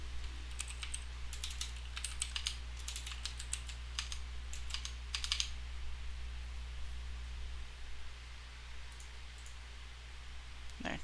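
Rapid, uneven clicking of a computer keyboard during network troubleshooting, typing in bursts with short pauses over a steady low hum of equipment, fairly close and with no voices.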